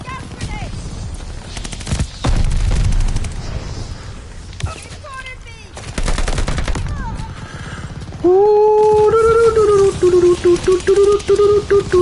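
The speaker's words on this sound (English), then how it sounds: "Throwing grenades. Throwing gas grenades." Call of Duty Vanguard combat brings bursts of rapid gunfire and heavy blasts from grenades, loud and mixed, while voices talk over the battle and a tonal game sound rises near the end.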